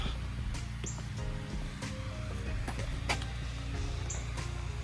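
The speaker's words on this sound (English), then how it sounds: "Sorry for the noise. My neighbor's doing construction on his house." Construction work at a neighboring house: a steady low rumble with scattered sharp knocks and clatters at irregular intervals, fairly distant and continuous.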